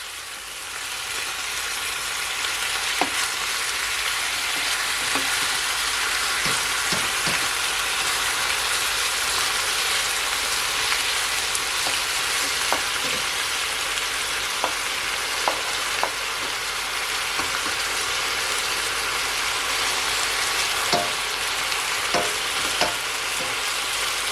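Brown stew chicken sizzles and sautés in a pot while being stirred, a steady hiss of frying punctuated by occasional scraping clicks of the spoon, continuing evenly with no talking.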